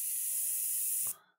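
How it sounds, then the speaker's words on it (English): An airbrush sprays ink onto paper in one steady, loud hiss that holds for about a second before cutting off abruptly, leaving a short tail of faint noise. "if we're spray painting here"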